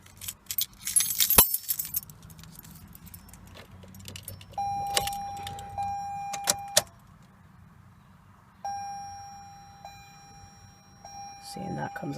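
Car keys jangle and drop near the start of a 2019 Toyota RAV4 LE. Electronic chime tones and beeps follow as the vehicle powers up, and brief handling noises occur between them.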